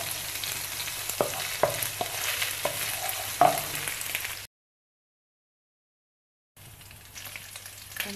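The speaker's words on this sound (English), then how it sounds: "I'm going to put the garlic ginger paste in" Garlic ginger paste fries in hot oil with a steady close-up hiss, broken by a few sharp spoon taps against the pan; the sound cuts out briefly and then the sizzle resumes more quietly.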